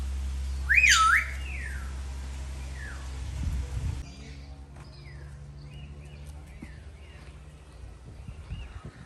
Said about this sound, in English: Oh, more parrots here.